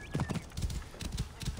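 A horse gallops in the video game Assassin's Creed Origins, with quick, fairly faint clip-clop hoofbeats in a steady rhythm over a short stretch.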